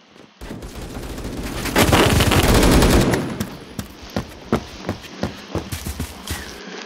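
AK-12 rifle fire in the Roblox game Phantom Forces, a dense automatic burst followed by a string of evenly spaced single shots, fairly close and loud.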